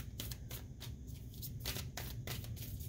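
Tarot cards shuffled by hand in quick, soft riffles and flutters, close and quiet, steady for a few seconds with no voice.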